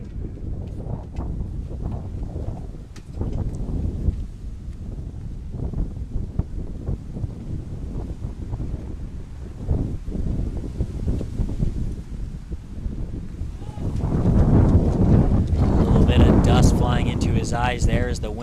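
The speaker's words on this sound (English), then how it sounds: "the wind starts to pick up a little bit here at Connervale Park" Wind gusts across the microphone at an outdoor baseball park during a college game, a rough rumbling buffet that builds louder near the end while a commentator talks over it.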